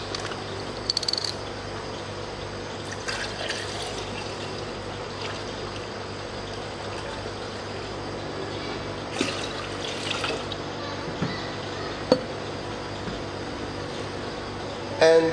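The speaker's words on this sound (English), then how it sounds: "Half a liter of orange juice or 500 ml of orange juice." Half a liter of orange juice pours steadily into a beer tower for sangria, a continuous liquid rush that runs almost the whole time at an even level with no talking.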